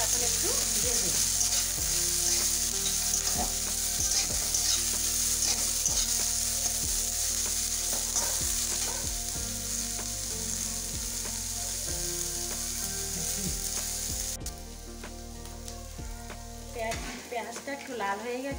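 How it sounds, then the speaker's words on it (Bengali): Garlic and cashew nuts fry in a pan with a loud, continuous sizzle and frequent stirring clatter, and the sizzle shifts and drops near the end. "রসুন, দিয়ে দিচ্ছি কাজু বাদাম, এগুলো এখন একটু ভেজে নেব।"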